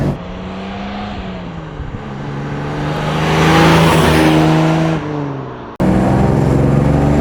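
A 1958 Jaguar XK 150 with a 3.8-litre engine accelerating hard from inside the car, a loud engine drone rising in pitch through the revs, easing off briefly, then surging again.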